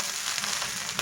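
Rice for egg fried rice frying in a pan over high heat, a dense, steady close sizzle and crackle throughout with no voices.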